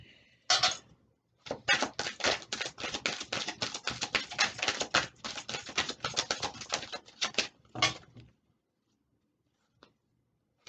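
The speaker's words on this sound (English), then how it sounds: "the sound of cards shuffling irritates the hell out of me" A deck of tarot cards is shuffled by hand: a dense, crackling riffle of flicking cards, close and steady for several seconds, then a final snap and near silence with a couple of faint taps.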